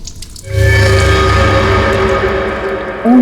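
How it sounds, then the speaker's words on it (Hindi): Water running in a bathroom, a steady loud rushing flow that starts after a brief pause and continues with a tonal hum, with no talking over it. "बाथरूम में पानी बहने की आवाज आ रही है"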